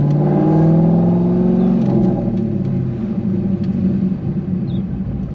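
A cammed C5 Corvette Z06 with a manual gearbox revs close and loud, a deep lumpy rumble that peaks early, then sinks into a rough, uneven idle.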